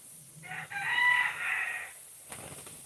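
A farm rooster crows once, nearby and clear, in a single drawn-out call lasting just over a second in an otherwise quiet rural setting.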